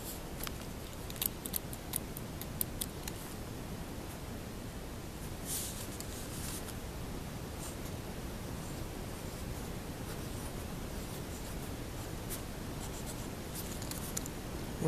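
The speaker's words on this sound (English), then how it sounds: "we're going to write that down" A pen scratching across paper during a grammar lesson, faint continuous strokes with a few sharp taps early on, close and quiet with no talking.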